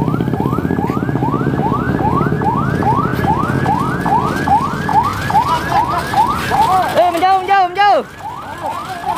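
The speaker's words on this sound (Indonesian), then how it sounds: "Saat ini ambulan juga baru tiba" An ambulance siren arriving at the scene of an accident, loud and near, with a rapid repeating rising wail that switches to a faster warble near the end over a rumbling engine.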